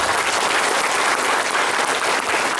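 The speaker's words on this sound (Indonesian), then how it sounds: "Tepuk tangan buat pondok kita tercinta." Students at an Islamic boarding school applaud together, a loud, dense burst of clapping that carries steadily through the whole moment.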